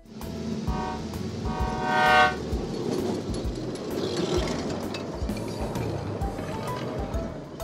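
A toy tram's horn sounds in a Lego stop-motion scene: a short blast, then a longer sustained tone over the steady rumble and clatter of a tram running on rails.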